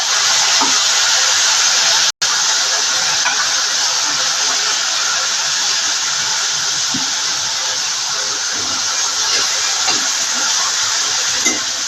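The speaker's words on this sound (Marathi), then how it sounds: "डाळ टाकते पहिल्यांदा फोडणीला" Soaked lentils hiss loudly and steadily as they hit hot oil in a tempering, with asafoetida already in the pan. A continuous, close sizzle runs throughout, broken only by a brief cut.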